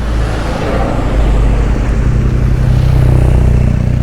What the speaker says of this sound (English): We'll just wait for these cars to go past.